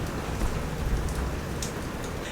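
Rain pours outside a cheap rented room in Arequipa, Peru, and leaks through the roof to drip inside, heard as a dense, steady, close hiss of falling water with no pauses.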